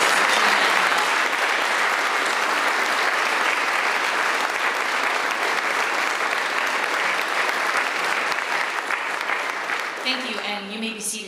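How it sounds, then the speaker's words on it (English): Sustained audience applause fills a civic ceremony honoring a color guard and singers at a mayor's budget address, loud and steady for about ten seconds before fading as a voice begins near the end. "Let's give one more round of applause to our color guard and the beautiful voices."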